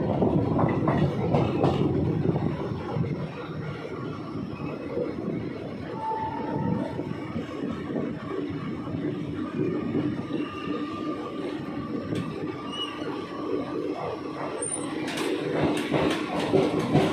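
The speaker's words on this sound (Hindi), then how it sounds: "train is arriving at Muzaffarnagar railway station" An Ambala–Delhi Intercity Express train rolls into Muzaffarnagar railway station, a steady rumble of wheels and carriages with faint squeals and clanks, fairly loud and continuous, with no one speaking.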